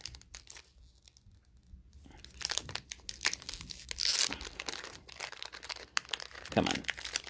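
A Pokémon card booster pack is torn open up close, with sharp bursts of ripping foil and crinkling wrapper across several seconds, fairly quiet overall.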